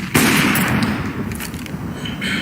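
A flashbang grenade going off in Counter-Strike: Global Offensive during a Navi vs. Mousesports ESL One Cologne match, one sharp loud burst followed by a sustained ringing rush of noise.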